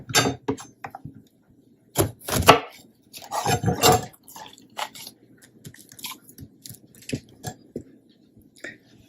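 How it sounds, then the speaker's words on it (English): A knife slices through bell peppers on a cutting board, giving crisp irregular chops and crunchy cuts, closer and louder early on and then lighter, scattered taps. "I'm going to cut a little extra."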